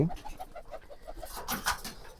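Pigeons coo indoors in a house-like loft, including a sick new bird, in a quick series of soft repeated coos followed by brief rustling, close and moderately loud.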